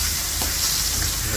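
A loud, steady hiss of fish frying in dark, used oil, close up, with a dense crackling sizzle throughout.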